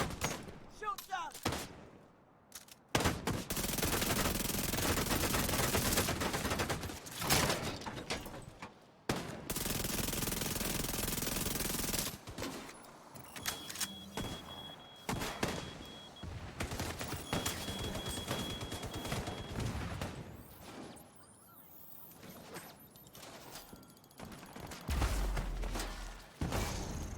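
Sustained bursts of automatic gunfire and rapid shots from a firefight in The Division 2 video game, loud and dense across most of the stretch, with brief gaps and occasional shouted voices.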